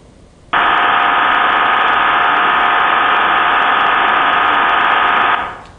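Received digital radio modem tone degraded by noise and frequency offsets, a loud steady buzzing band of tones over hiss that starts abruptly, holds for about five seconds, then cuts off.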